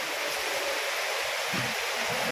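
Heavy monsoon rain pours down steadily, a dense continuous hiss of falling water close by without pause, with a few faint low thumps beneath and no talk.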